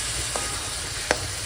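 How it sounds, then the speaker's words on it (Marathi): Pieces of bottle gourd go into frying masala in a pan, giving a steady, soft, close sizzle over about a second and a half, broken by a couple of small clicks. "आता आपण ह्याच्यामध्ये भोपळा टाकूया."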